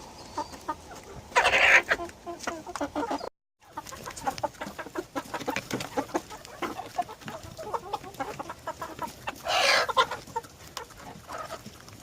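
Hungry chickens clucking and squawking close by, with a rooster among them, a busy continuous run of overlapping calls with two louder bursts of squawking.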